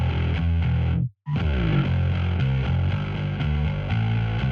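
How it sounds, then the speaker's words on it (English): A distorted, grindy bass guitar in a rock mix, cut by a noise gate, plays loud rhythmic buzzing notes with a brief full drop to silence early on before the riff resumes; no speech. "I'm a huge fan of really grindy bass, and then, you know, gating it with either a noise gate"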